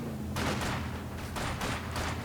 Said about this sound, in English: Soviet Sniper Squad here, taking some shots at these Volks Grenadiers